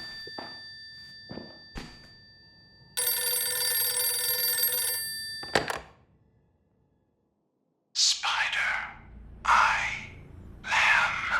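Telephone ringing in The Outlast Trials horror video game, a sustained electronic ring lasting about two seconds amid thumps and footsteps, followed by silence and then bursts of harsh noise.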